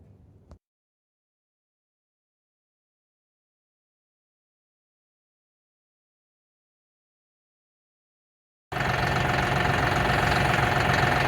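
A tractor being loaded onto a trailer idles with a steady, loud, rumbling drone that cuts in abruptly near the end after a long stretch of silence.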